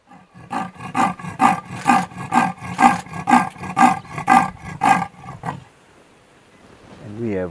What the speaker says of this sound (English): But this is what a leopard sounds like.